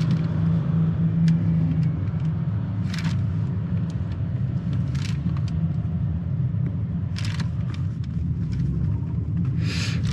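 Exhaust from a 2015 Mercedes-Benz W212 E400 4Matic gives a steady low rumble while driving, a constant cabin drone with a few faint clicks and ticks over it.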